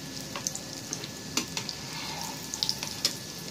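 Beef boti kebabs fry in a hot pan with a steady close sizzle, punctuated by sharp crackles and spits of oil popping.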